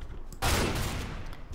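A single loud, close gunshot in the video game CS:GO lands after a short quiet lead-in and is followed by a long, noisy decay.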